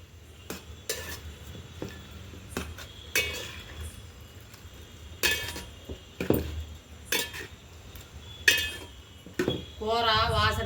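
Ladle stirring chicken curry with garam masala, coriander, mint and curry leaves in a metal pot over a village wood fire, repeated clinks and scrapes spaced irregularly, soft sizzle underneath, a voice briefly at the end.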